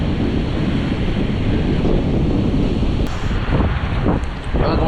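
Wind blowing across a beach in Chennai, a continuous roaring gust buffeting the microphone with a surf-like wash underneath, loud and steady, with a few faint clicks toward the end.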